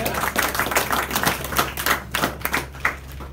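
Applause from a small audience at a Polk County, Florida gathering: a thin, uneven patter of a few pairs of hands clapping, close and moderately loud.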